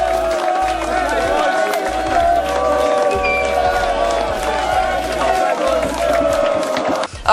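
Football supporters at Clapton's stadium, a dense, loud crowd roar with chanting and cheering sustained throughout, close and festive.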